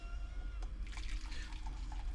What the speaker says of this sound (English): I'm going to have to use another cup because I've got to drain this off